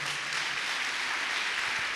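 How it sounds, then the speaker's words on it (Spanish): Congregation applause during a Spanish-language church service: a dense, steady wash of clapping from many hands, fairly distant and even throughout with no break. "Aplaudan a Dios por eso, por favor."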